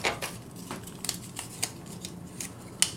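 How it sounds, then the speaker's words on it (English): Plastic pieces of a Generation Toy GT-2 Tyrant robot figure are folded and snapped together by hand, a series of small, irregular clicks and rattles at close range, with no voices. "these pieces here just kind of crumple into each other"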